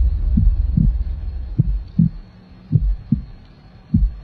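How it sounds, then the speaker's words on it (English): Rhythmic heartbeat thuds in a haunted house, low and steady pulses repeating about every half second to second across a droning background, with no talking. "I can hear someone's heartbeat."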